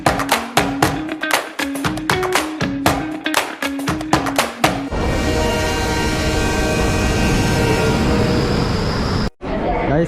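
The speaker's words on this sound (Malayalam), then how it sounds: "ഇതാ നമ്മൾ റെയിൽവേ സ്റ്റേഷനിലാണ് നിൽക്കുന്നത്" A train passes along a railway station platform, a rhythmic run of clacks and tones giving way to a steady, loud rumble of carriages rolling close by, with a brief drop near the end.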